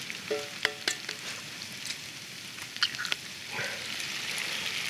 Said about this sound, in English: I'm just gonna go ahead and add my eggs